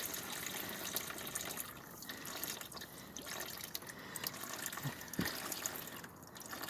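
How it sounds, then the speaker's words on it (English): Transmission oil from the pan of a 2008 Dodge Grand Caravan with a 3.3 L engine drains into a container as a faint, steady trickle with occasional drips, quiet and close. "Wiggle to get some slack and let the oil drain."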